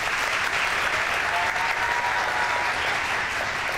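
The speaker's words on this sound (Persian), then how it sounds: "به به، تشویقشون کنید" A studio audience at a pantomime game show applauds in a steady, even wash of clapping throughout. A faint voice sits underneath.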